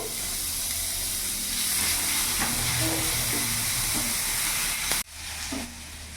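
Chopped onion frying in a pan gives a steady close hiss and sizzle with faint stirring scrapes, cutting off abruptly near the end before a quieter sizzle resumes.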